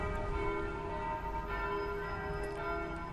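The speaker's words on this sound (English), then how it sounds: "some bells of church, I guess" Church bells ring out at a distance, their sustained tones hanging steadily over a faint outdoor background, with no voices.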